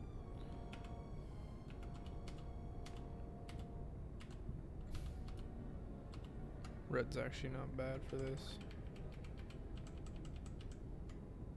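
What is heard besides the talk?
computer keyboard being typed on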